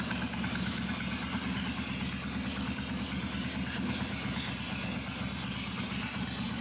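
A Suzuki Intruder 1400 motorcycle engine idles steadily with its choke on, a constant low rumble with even throb and no pauses, heard close and alone without talk.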